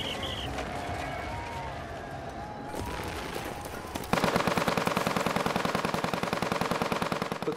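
Machine guns on a World War I Western Front battlefield, rendered as a rapid, steady stream of loud shots that starts abruptly after a quieter stretch of ambient rumble and continues without pause.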